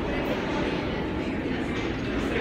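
Train at a station with a steady, loud rumbling roar and hiss that stays even throughout, with no speech.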